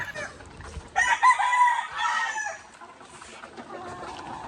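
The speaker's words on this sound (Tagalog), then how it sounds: "Nagpapakain tayo ng mga manok natin." Several chickens, including White Leghorns, cluck while a rooster crows loudly partway through, with farmyard clucking continuing faintly afterward.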